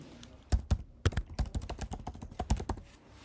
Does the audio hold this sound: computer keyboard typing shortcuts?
yes